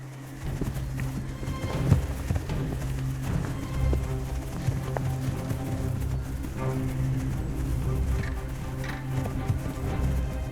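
A bison herd runs through the Leine Valley in Germany, a continuous loud drumming of many hooves with scattered animal calls over the rumble.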